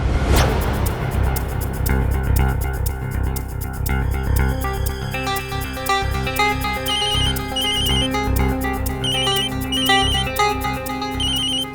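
A mobile phone ringtone plays in an Indian TV crime drama, a loud looping electronic melody with repeated high chiming notes that rings on steadily for several seconds.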